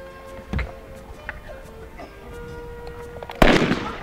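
A single sharp gunshot-like bang from a cowboy-style outdoor reenactment rings out near the end, following a few softer pops and knocks over a steady background hum.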